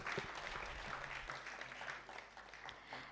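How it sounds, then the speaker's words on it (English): Steady applause from a crowd, continuous and fairly loud, with a dense wash of clapping that holds for a few seconds. "A huge round of applause, audience."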